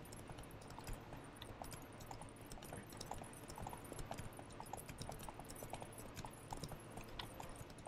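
Horse hooves clip-clop steadily while riding through moonlit countryside in The Witcher 3, a continuous rhythmic trot close by under a wash of ambient game sound.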